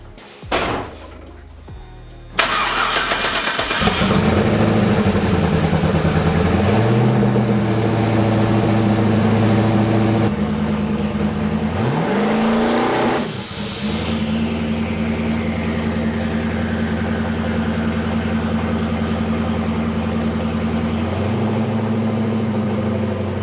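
A twin-turbo Ford Mustang engine starts with a few clanks, then runs loud and steady, its pitch climbing and dropping as it revs during a trans brake test and settles back into a sustained rumble.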